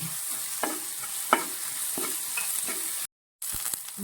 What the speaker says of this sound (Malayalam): ഉപ്പും കൂടിയിട്ട് നമുക്ക് നന്നായിട്ട് വഴറ്റിയെടുക്കാം